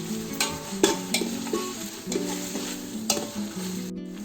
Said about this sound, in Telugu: జింజర్ గార్లిక్ పేస్ట్ ఎక్కువ వేసుకోవాలి. ఒక 2 నిమిషాలు ఫ్రై చేసుకున్నాము.